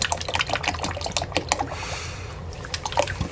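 Tomato juice, about 46 ounces, pours into a pot of venison chili in a home kitchen, a close, steady liquid splashing and trickling with scattered drips throughout.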